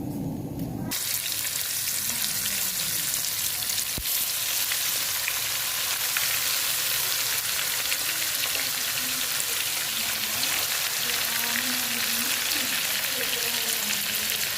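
Fish pieces fry in hot oil with a loud, dense, continuous sizzle and crackle, close up and unbroken after a brief quieter start, with no talking.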